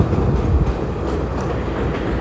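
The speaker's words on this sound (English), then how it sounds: "Let this damn train go by." A train rumbles past at close range in the rain outdoors, a steady low roar with faint rail clatter filling the whole stretch, no voices over it.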